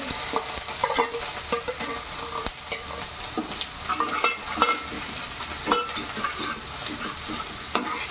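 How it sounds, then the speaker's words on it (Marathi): Ginger, garlic and green chilli frying over a high flame for veg biryani, a dense steady sizzle with repeated scraping stirs and clinks of the spoon against the pan, close and loud with no talking. "गॅस फास्ट ठेवले. लसूण अद्रक शिजला पाहिजे."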